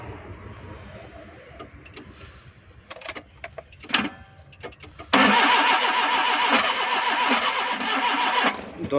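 A Suzuki Ravi motorcycle with a morning starting problem, on petrol and CNG, cranks with sharp clicks and clatter, then its engine catches and runs loud and steady at close range.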